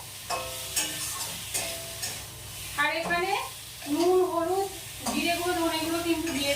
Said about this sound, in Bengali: এখন আলুটা দিয়ে দিচ্ছি আলুটা কিন্তু আলাদা করে আর ভাজলাম না এই মশলার সঙ্গে একটু কষিয়ে নেবো ভালো করে